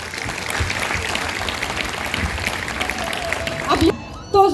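An audience at a World Yoga Day event at a community centre applauds in a loud, steady burst of clapping that runs for several seconds before breaking off near the end.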